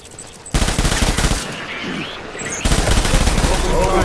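Sustained automatic gunfire from the Death Stranding video game rattles loud and dense in rapid bursts, continuous and heavy throughout, with a brief quieter stretch in the middle before the volley intensifies again.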